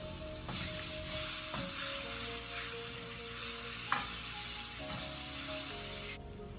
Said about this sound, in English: put down a little bit of olive oil and add my garlic and let this garlic cook